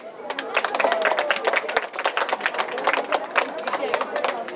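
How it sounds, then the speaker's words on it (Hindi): Audience applauding girls taking part in a conch-blowing competition, a dense burst of many hands clapping that stays steady throughout, with a voice now and then above it. "तो हम जोरदार इनके लिए ताली बजाएंगे।"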